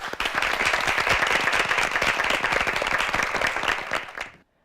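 A high-school debate competition audience applauds a speaker, a loud, sustained crowd of clapping hands over several seconds that tapers off and stops abruptly.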